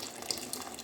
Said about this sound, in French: On passe à l'eau bouillante